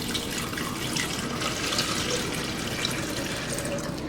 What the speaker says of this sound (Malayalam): ആദ്യം 2 ഗ്ലാസ് വെള്ളം ഞാൻ എടുത്തു വെച്ചിട്ടുണ്ട്, അത് ഇതിലേക്ക് ഒഴിച്ചു കൊടുക്കാം.